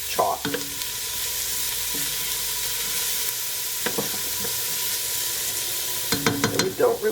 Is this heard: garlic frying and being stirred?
yes